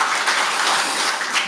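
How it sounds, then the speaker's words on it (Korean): A short, dense burst of audience applause at a policy forum on tidal power and the Saemangeum seawall, steady and fairly loud with no voices over it. "네, 큰 박수 부탁드리겠습니다."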